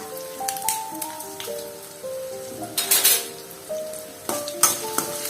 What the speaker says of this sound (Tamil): இது போட்டு எல்லாத்தையும் நல்லா வெங்காயம் வதக்கணும்.